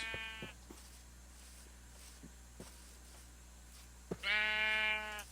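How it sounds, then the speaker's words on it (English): A black sheep bleating in Minecraft, with one short bleat at the start and a longer, louder bleat near the end, separated by soft footstep ticks in a quiet scene. "Oh, a black sheep."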